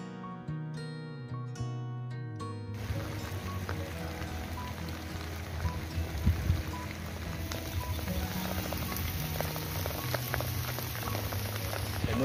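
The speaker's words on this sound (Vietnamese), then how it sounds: "Mưa trắng rồi nè bạn, thấy không" Heavy rain pours steadily over an open field during a rat hunt, a dense continuous wash of patter that starts abruptly after a few seconds of tonal sound and stays loud throughout.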